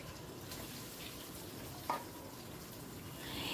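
Chopped onion frying in mutton fat gives a steady, close hiss of sizzling throughout, with one brief sharper crackle partway through and the sizzle swelling slightly at the end.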